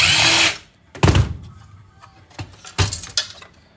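A power drill removes screws from scrapped electronics in short, loud whirring bursts, the first about half a second long and two more following, separated by faint clinks and handling noises.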